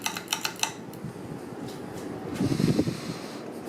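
A 1996 Hunter Original 52-inch ceiling fan running on high speed, giving a steady close whoosh of moving air with a low rumbling hum and a few light rhythmic ticks near the start.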